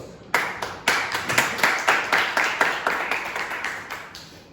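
Applause at a panel discussion after a speech: a steady run of sharp, evenly spaced claps, fairly close and clear, with no talking over them.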